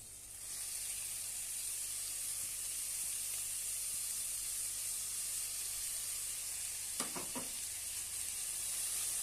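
Chopped spinach sizzling in a hot pan for palak onion chutney, a steady close hiss with a brief clatter of stirring near the end.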